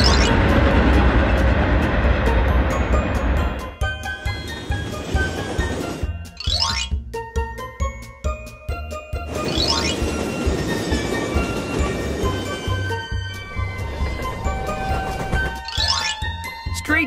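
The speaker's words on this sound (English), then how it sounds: "Subway train." Cartoon subway train sounds with chiming bell-like jingles and tonal swells, loud and continuous, with rising whoosh sweeps and brief pauses between passages.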